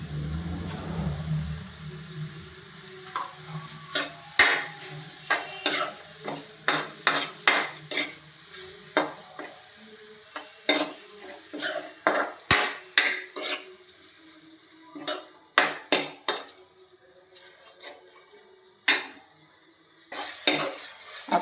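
An onion and tomato mixture is stirred in a pan for aloo paratha filling. A utensil scrapes and knocks against the pan in a steady run of sharp, close taps, with a brief low sizzle at the start and no talking.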